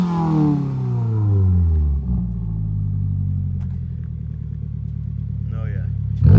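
A 2022 Subaru WRX fitted with an Aeroflow Dynamics axle-back exhaust revs loudly, the engine tone rising then settling into a steady, deep rumbling idle, with a voice briefly audible near the end.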